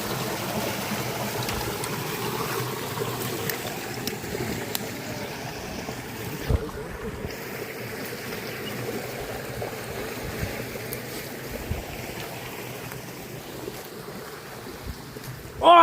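Water moving and lapping around a small boat at sea, a steady low wash with wind noise and occasional knocks, moderately close, no talk.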